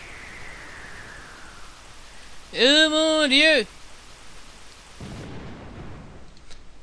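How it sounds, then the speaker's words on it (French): A heavy storm of rain and rumbling thunder in Pokémon White plays as a steady wash of noise, with a loud, tonal game jingle cutting in partway through and someone speaking briefly. "Quelle terrible tempête!"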